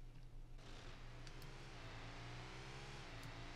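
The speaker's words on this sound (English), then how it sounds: "We have an engine audio right here," Motor Buggy engine sound from the Rocket League video game, a steady mid-pitched motor hum that revs slightly, faint and continuous with no speech.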